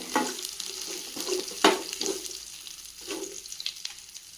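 Green chillies sautéing in a pan for pachai milagai puli mandi, a steady close sizzle broken by scraping stirs of a spoon against the pan, with no talk.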